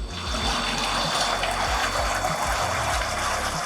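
Hot sparge water runs from a hot liquor tank through brewery piping, a steady loud rushing and trickling flow that continues without pause.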